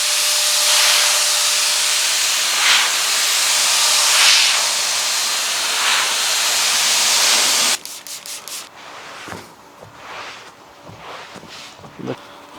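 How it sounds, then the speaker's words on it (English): Compressed air from a sidekick blower blasts across the top fibers of a car floor mat, a loud steady hiss for about eight seconds that cuts off abruptly, followed by quieter brushing and handling sounds. "let me use some compressed air, in this case out of the sidekick blower, to clean the top end of the fibers of this floor mat"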